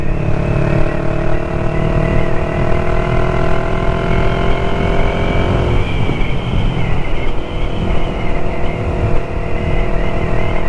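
A Yamaha MT-03 motorcycle on a wet road runs its exhaust while riding, a loud, close engine drone with steady harmonic tone that shifts pitch midway as the rider changes speed, no voices over it.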